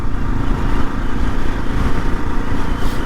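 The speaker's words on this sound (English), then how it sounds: "The engine sounds nice," A 2023 Mash X-Trail 650 motorcycle engine running with a loud, steady, rough drone that holds evenly throughout, close to the microphone, with no voices.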